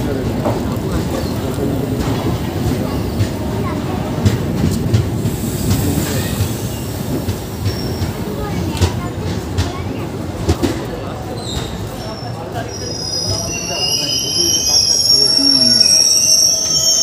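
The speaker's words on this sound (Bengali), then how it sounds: "আমাদের ট্রেন নিউ জলপাইগুড়ি স্টেশনে এসে পৌঁছে গেছে" Paharia Express from Digha pulls into New Jalpaiguri station with loud, sustained metallic wheel squeal over rumbling, clattering carriages. Thin high screeches rise near the end of the long, close-up passage.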